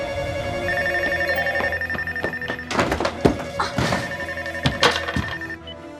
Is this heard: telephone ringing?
yes